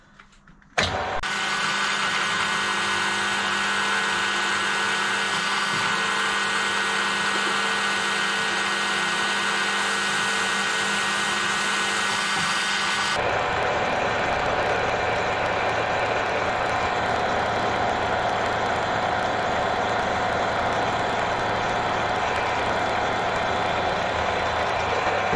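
A 6.7 mm hole being drilled as the tapping size for an 8x1.25 thread, for a trailer water barrel holder; a steady, loud motorized drone runs for about twelve seconds, then a rougher, noisier cutting sound continues to the end.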